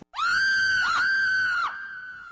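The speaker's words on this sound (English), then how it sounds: "It was a voice, a girl's voice, full of panic or pain or something worse." A girl's panicked scream rings out, a single loud, sustained high-pitched cry that wavers midway, then drops to a quieter trailing tail near the end.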